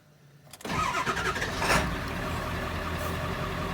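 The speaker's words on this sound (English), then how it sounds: "You can hear the pump working, sounds pretty good." On a 7.3 F550, a fuel transfer pump cycles on after near silence and settles into a steady, fairly loud mechanical hum and whir that runs on without a break, with no talk.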